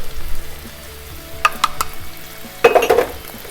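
Onion added to a hot pan at medium-high heat for arroz a la valenciana, giving two loud bursts of sizzling amid clinks of utensils against the pan.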